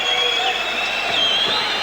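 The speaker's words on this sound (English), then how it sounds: "a rousing applause for the courageous Chris Chrisopoulides" A crowd roars at an Australian title boxing bout as a fighter weighing over 100 kilos is introduced, a dense, steady wall of cheering with a few whistle-like tones on top.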